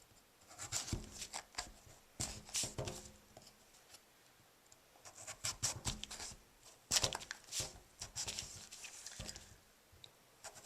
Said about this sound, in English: taking my paring knife and just cutting through